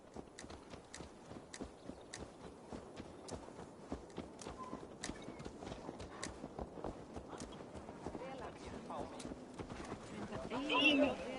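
Horse hooves clip-clop in the video game Assassin's Creed Valhalla, a steady walking rhythm of close, repeated hoof falls, with a voice talking over them.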